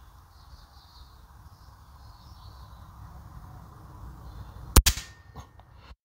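An air rifle fires a pellet in a garden: a single sharp, close crack near the end, followed by a short ringing tail, after a quiet outdoor stretch with faint background birdsong.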